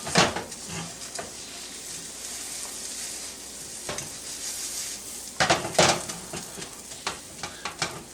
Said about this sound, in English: I'm going to go ahead and add my Rice A Roni in there. Blend it in with the butter.